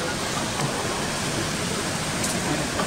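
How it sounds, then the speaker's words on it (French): Steady, dense roar of the Cascade d'Ouzoud waterfall heard up close, a loud broadband wash of falling water that continues unbroken with no voices over it. "À côté de la cascade."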